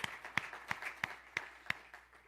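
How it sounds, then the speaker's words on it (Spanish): A church congregation claps faintly in a slow, even rhythm, with about seven separate claps spaced evenly apart and no voices over them. "un aplauso al Señor por su palabra"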